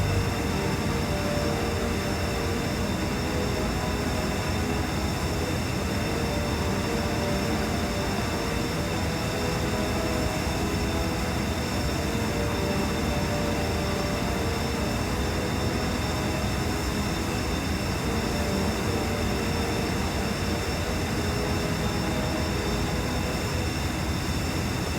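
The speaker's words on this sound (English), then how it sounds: "comes into land. Gear down," Aircraft coming in to land in the naval combat game Sea Power, heard as a steady, loud, unbroken roar of engine noise that holds level throughout without voices.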